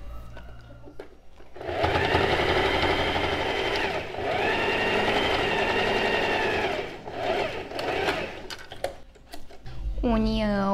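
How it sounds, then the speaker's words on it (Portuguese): A sewing machine stitches a blouse seam with a steady whirring hum in two long runs, broken by brief pauses. A voice is heard near the end. "Aí eu passo a costura prendendo tudo isso."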